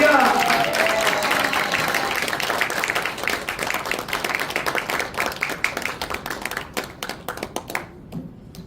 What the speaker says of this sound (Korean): 권사님 나오실 때 우리 큰 박수 환영하시기 바랍니다.